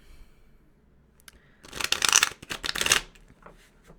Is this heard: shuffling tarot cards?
yes